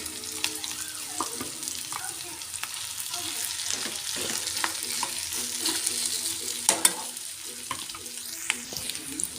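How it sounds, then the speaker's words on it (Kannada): Mashed potato stirred into frying onions with turmeric, a soft continuous sizzle under repeated scraping and clinking of a spoon in the pan, with occasional sharper knocks and no talking. "ಈಗ ಅದಕ್ಕೆ ಸ್ಮ್ಯಾಶ್ ಮಾಡಿರುವಂಥ ಆಲೂಗಡ್ಡೆ ಹಾಕ್ಕೊತಾ ಇದ್ದೀನಿ"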